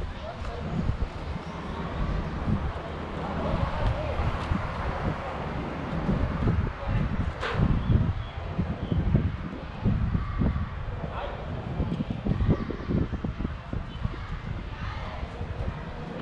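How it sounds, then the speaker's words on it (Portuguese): Strong wind buffets the microphone during an outdoor neighbourhood kite-flying gathering, a constant rough rumble for the whole stretch with someone talking over it. "O vento tá forte."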